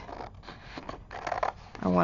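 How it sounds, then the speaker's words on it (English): Scissors snip into paper while making clear marble craft magnets, with a few short, crisp cuts close up, and a voice starts talking at the end. "So I'm just going to use my scissors to get in here."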